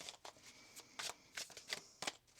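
Tarot cards shuffled by hand in quick, crisp riffling bursts, several short rustles in a row, close and fairly quiet with no talking.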